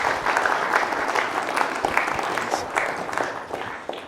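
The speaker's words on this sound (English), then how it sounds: "Maybe another round of applause for the speaker," Audience at a Lisp programming symposium applauding a speaker, dense even clapping from a room full of people that holds steady and tapers slightly toward the end, with faint voices underneath.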